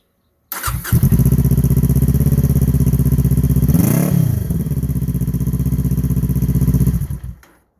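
A 2019 Kawasaki Z400 motorcycle engine with an inexpensive aftermarket exhaust and silencer starts and idles with a deep, loud, throaty burble, briefly revving once midway before settling and cutting off.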